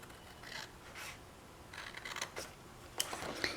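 Scissors snip through cardstock while cutting a twisted box, a few short dry crisp cuts in quick succession, close and quiet with no talking.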